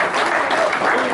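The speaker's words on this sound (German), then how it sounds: "Ein riesen Applaus für die Toni-Hofburg!" Audience applause at a local Ratschen festival, a dense continuous clatter of many hands clapping throughout, steady and fairly loud with no voices over it.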